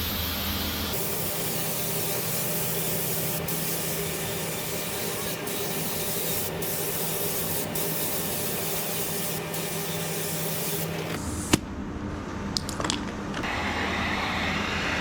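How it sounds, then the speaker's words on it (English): A spray gun lays down water-based car paint during a paintwork repair, giving a steady, close, continuous hiss for about eleven seconds before it cuts off, leaving quieter room noise with a few small knocks. "As you see, I was spraying it in all different directions"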